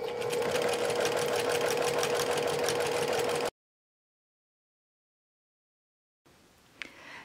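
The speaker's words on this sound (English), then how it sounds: "I'm sewing with a 1/2 inch seam allowance." A sewing machine running steadily at speed as it stitches a half-inch seam on a fabric composition book cover, a dense rapid whir for several seconds that stops abruptly, followed by silence and then faint handling noise.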